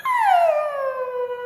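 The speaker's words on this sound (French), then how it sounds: "Là, je parle à mon chien, à ma chienne." A pet dog howls in one long, loud, sliding tone that drops steadily in pitch before breaking into a brief whimper at the end.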